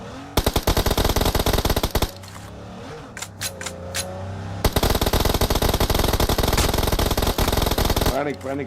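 Rapid automatic gunfire in the mobile game BGMI comes in long, loud, close bursts broken by a short pause with a few single shots, and vehicle engine noise sits underneath.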